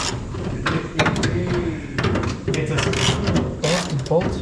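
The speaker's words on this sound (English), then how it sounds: "so far I've loosened both bolts and the tank hasn't dropped" A hand ratchet clicks in quick bursts while loosening the fuel tank bolts on an endurance race car, close and loud, with clanks of tools and parts in between.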